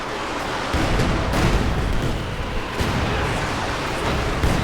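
Katyusha rocket artillery launching in a World War II strategy game, a sustained roar of rumbling blasts and whooshes with several sharp bursts rising out of a dense, continuous battle din.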